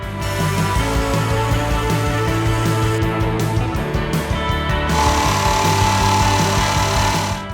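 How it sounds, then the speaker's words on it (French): A plunge saw cutting a wood panel lengthwise runs steadily and loudly, its motor whine holding through a long cut with a slight change in tone partway. "je prends la scie plongeante et je fais les découpes dans la longueur."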